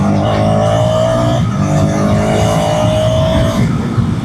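A loud Hero Xtreme 250R 250cc motorcycle engine revs steadily and holds a high, buzzing pitch, easing briefly and rising again, close by with no talking.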